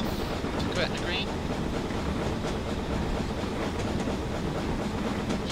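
A BR 9F steam locomotive running on the Western Lines of Scotland in Train Simulator 2016, a continuous loud rumbling roll with faint rhythmic clatter of wheels on track, while someone talks over it.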